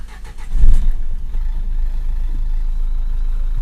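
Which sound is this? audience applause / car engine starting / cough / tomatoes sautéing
car engine starting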